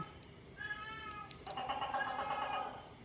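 A cat meows in a kitchen setting, a drawn-out mew followed by a louder, longer wavering call, close by over faint room noise.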